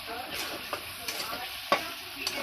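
Onions for a chicken curry fry in a pan, giving a faint, steady sizzle with a few soft stirring scrapes and clinks.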